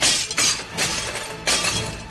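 Plates smashing against the floor in a cooking competition kitchen, a loud crash of breaking crockery followed by a second shattering about a second later, each burst bright and splintering, with no talk over it.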